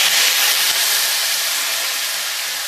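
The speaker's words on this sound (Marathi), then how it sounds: "मोहरी आपली चांगली तडतड उडत आली आहे." Mustard seeds spluttering in hot oil make a steady, loud, close sizzling hiss that runs unbroken throughout, with no voices.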